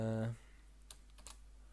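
Soft computer-keyboard typing while writing HTML code: a brief voiced sound at the start, then a few faint, sparse key clicks in a quiet room.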